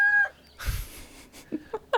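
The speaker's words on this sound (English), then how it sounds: "I wrote insert rooster sound here" A rooster crows once with a short harsh burst, followed by a few faint clucking fowl calls, heard alone with no talk.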